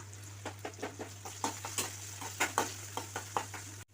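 Onions sizzle in oil with curry leaves and garlic for a white pumpkin sambar, a ladle scraping and stirring them in steady rhythmic strokes over a constant low hum, with no talking.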